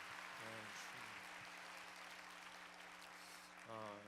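A church congregation claps steadily for several seconds, a dense, continuous wash of applause with sustained keyboard or organ chords sounding beneath it.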